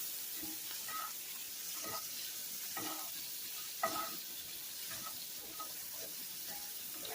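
Bacon grease and garlic frying in a pan give a steady, close hiss and sizzle, punctuated by repeated soft scrapes and clicks of stirring.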